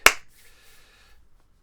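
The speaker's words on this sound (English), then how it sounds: "Sorry, I clapped." A single sharp hand clap rings out at the start, loud and close, then decays into a faint room echo and near silence.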